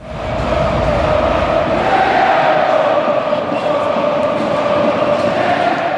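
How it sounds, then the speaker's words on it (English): A packed outdoor ice hockey crowd at a winter game roars after a late equalizing goal, a loud, dense and sustained wall of cheering with no break. "Listen to the crowd."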